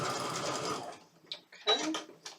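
Sewing machine running a seam on quilt pieces with the fabric flipped upside down, a close rapid whirring burst for about a second, then scattered clicks and light handling sounds.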